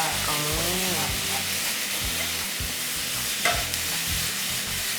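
Crushed garlic frying in oil for a seafood stir-fry with chili and garlic: a loud, continuous sizzle with stirring and scraping, a brief squeaky rise near the start and a sharp clack midway.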